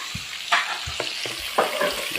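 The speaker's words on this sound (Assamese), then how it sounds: "দেখিছে মাংসটো লৰাই আছোঁ" Meat being stirred and fried in oil in a home kitchen, with a steady sizzle and several distinct scraping stirs of the spoon at irregular intervals, close by and with no talk.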